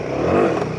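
A trail motorcycle revving briefly as gas is given on a bumpy track, a loud, close engine swell that rises and fades within a second.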